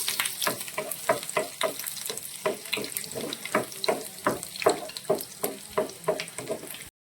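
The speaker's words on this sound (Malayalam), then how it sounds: "നമ്മളൊരു 3 അല്ലി വെളുത്തുള്ളിയും അതുപോലെ തന്നെ കുറച്ച് ഇഞ്ചിയും കൂടി ഒന്ന് സോട്ട് ചെയ്യുവാണ്" Three garlic cloves and some ginger sauté in a pan for paneer butter masala, the sizzle broken by regular, rhythmic stirring scrapes close by, with no one talking.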